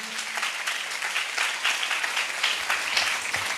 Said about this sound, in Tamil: நல்ல கைத்தட்டி கர்த்தரை மகிமைப்படுத்துவோம்.